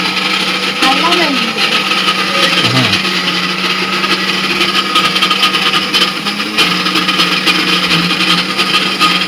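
Mixer grinder in a village home kitchen runs loudly and continuously, its steady motor whine carrying under people's voices talking over it.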